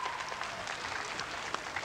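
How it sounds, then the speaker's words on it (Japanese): Arena crowd at a 1987 women's pro wrestling match breaking into applause, a dense continuous roar of clapping with a few sharp accents, heard without distinct speech. "場内から拍手が湧いております。"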